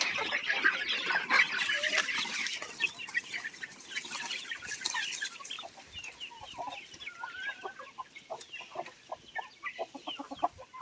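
Native country chickens on a farm in Tumkur, many hens clucking and squawking at once, a busy, loud flurry that thins into scattered, rhythmic clucks toward the end.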